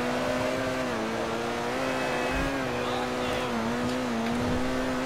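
Cheval Taipan hypercar, styled on the Hennessey Venom F5, driving in GTA 5 Online: a steady engine drone holding one pitch, rising and dipping slightly with throttle, close and continuous with no talk.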